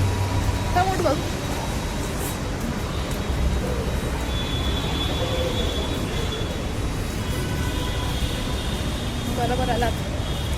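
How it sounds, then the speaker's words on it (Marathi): Metro train at a metro station, a steady broad rumble and hum of the train and station throughout, with faint voices in the background. "metro station"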